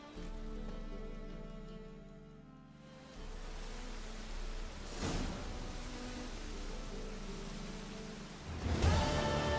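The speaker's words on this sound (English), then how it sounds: "Must like the rain, that one." Steady rainfall in The Witcher 3 game world, a broad even hiss of drops on surfaces holding throughout at moderate level, with a couple of brief louder swells, no voices over it.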